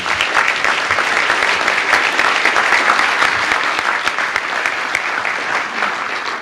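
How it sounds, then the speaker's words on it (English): Audience at a keynote speech applauding, a dense, loud and steady wash of clapping from a full room that carries on evenly from start to finish. "let's give Dutch a big round of applause."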